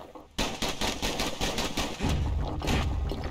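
Rapid gunfire from the video game Bastion, a dense run of repeated shots sustained across the clip, loud and close, with a heavier low thump joining partway through.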